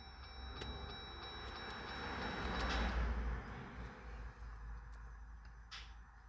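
A 2021 Jeep Gladiator EcoDiesel's fuel pump priming after a fuel filter change, a low electric whir that swells for a couple of seconds and then fades, with faint ticks around it.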